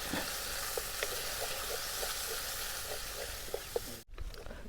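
Chicken coated in turmeric, chilli powder, garam masala and chicken masala sizzles gently in a pan, with soft intermittent scrapes of stirring and a brief pause near the end.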